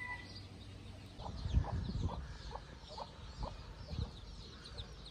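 Podkarpacka hens cluck in short, scattered bursts close by, with several calls overlapping against a quiet outdoor background.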